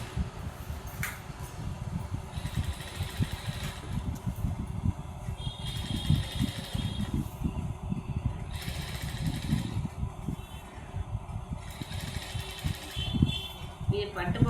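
A sewing machine stitching gathered silk pattu paavadai skirt fabric, with a fast, rattling mechanical run in repeated bursts under nearly constant talking.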